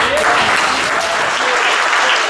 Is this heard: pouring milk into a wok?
no